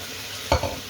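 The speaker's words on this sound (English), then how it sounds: "give that a good stir" Spinach is stirred into a sizzling balti curry in a pan, a quick double scrape and stir rising briefly over a soft, steady frying hiss.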